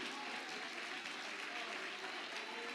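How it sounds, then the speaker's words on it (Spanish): Congregation in a church applauding during a sermon, a continuous, even wash of clapping from many hands with no break across the short span. "Dele fuerte ese aplauso al Rey."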